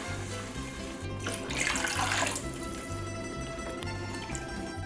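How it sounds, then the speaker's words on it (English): Cold water poured into a cooking pot in a home kitchen, six cups going in over tomato paste: a steady splashing pour that swells in the middle and runs continuously over a low background hum, with no speech. "We're going to add 6 cups of cold water."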